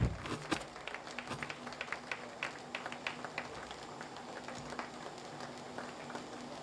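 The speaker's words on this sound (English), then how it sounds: "Round of applause." Audience at a Britam insurance company 25th anniversary celebration applauding, a faint, distant patter of scattered claps running steadily throughout.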